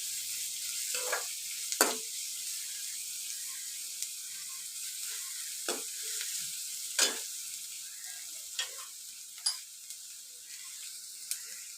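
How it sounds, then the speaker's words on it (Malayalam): Onions and green chillies sautéing in a pan for Kerala-style uppumavu, a steady soft sizzle with occasional sharp clicks and scrapes of a spoon against the pan. "ഉള്ളിയുടെയും പച്ചമുളകിൻ്റെയും നിറം മാറി വരുന്നത് വരെ ഒരു 2-3 മിനിറ്റ് മൂപ്പിച്ചാൽ മതി."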